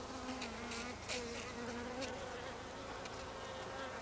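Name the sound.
honeybees buzzing in a hive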